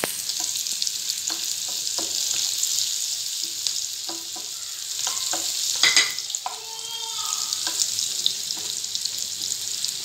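Chopped shallots frying in oil for tempering a brinjal curry give a continuous bright sizzle, broken by a few soft clicks and stirring knocks, near and steady, with no talk.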